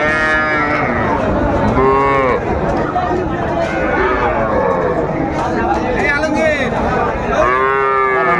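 Cattle, young bulls and heifer calves at Raniganj livestock market in Dinajpur, several loud moos at close range against a steady hum of crowd chatter.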